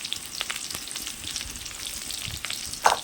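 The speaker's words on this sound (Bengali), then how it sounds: "এখন এগুলো একটু ভালো করে ভেজে নেব।" Chopped green chillies fry in hot oil with a soft, continuous crackling sizzle and a few brief louder pops, fairly quiet and without any voices.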